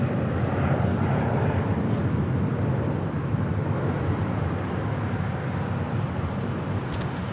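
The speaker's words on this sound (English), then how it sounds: "American Airlines, flight 861 and the 737-800" Steady jet rumble from an American Airlines Boeing 737-800 at LAX, a broad, constant roar at moderate level with no break or obvious change throughout.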